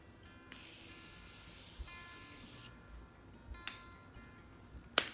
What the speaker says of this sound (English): I'm gonna go ahead and spray my face again.